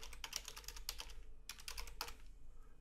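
Typing text on a computer keyboard while working in Photoshop: quiet, close key clicks in irregular clusters with short pauses between bursts.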